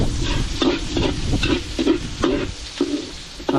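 Garlic and onion sauté in a pan for chicken tinola, with a steady sizzle and repeated scraping stirs roughly every half second, close and fairly loud, with no talking.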